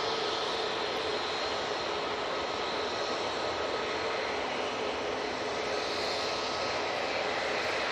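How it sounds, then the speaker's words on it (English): EasyJet Airbus A320ceo jet on approach to Manchester Airport, a loud, continuous engine roar and rushing whine that holds steady throughout with no talk. "EasyJet A320 CEO coming on via Victor Bravo."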